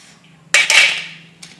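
Hot kamarkattu candy balls, fresh from hand-rolling, dropped onto a plate give a sharp clatter followed by a quick second knock, then a fainter clink a moment later.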